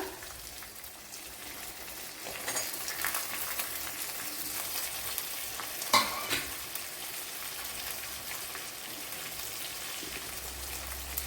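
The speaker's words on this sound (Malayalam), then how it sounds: "ഇതിലേക്ക് ഒരു വലിയൊരു സവാള വളരെ നൈസായിട്ട് അരിഞ്ഞെടുത്തിട്ടുണ്ട്, അത് ഇട്ട് കൊടുക്കുക." Finely chopped onion hits hot oil in a frying pan and sizzles steadily at close range, with occasional scraping stir sounds and one sharper clink near the middle.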